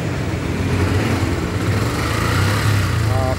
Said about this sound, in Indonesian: coba motornya dinyalain